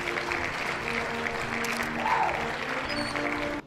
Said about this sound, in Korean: 5천 개 5천 개 5천 개입니다 여러분들 박수 한번 주세요.